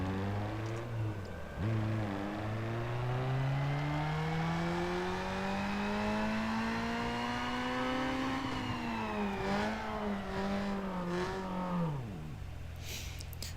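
A tuned car engine in Need for Speed Underground 2 revs on a dyno, pitch climbing steadily for about ten seconds before dropping off as the run ends, loud and continuous.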